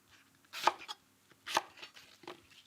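Granny Smith apples being cut into wedges with a knife, a few distinct chops on a board with pauses between them, close and fairly quiet, with no talk.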